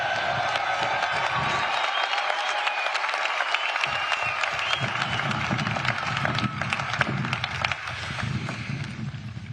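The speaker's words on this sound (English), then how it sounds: "give the class of 2022 another round of applause." A large crowd at an Air Force Academy graduation ceremony applauds and cheers the graduating class, a sustained, roaring wall of clapping with a brief dip partway before swelling again, continuing throughout.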